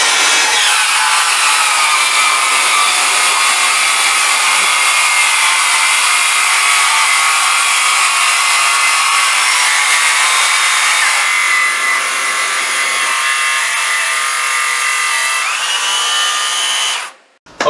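A circular saw rips through a true 1.5-inch stack of two 3/4-inch MDF sheets in one long, loud, continuous whining cut lasting about seventeen seconds, then spins down abruptly at the end.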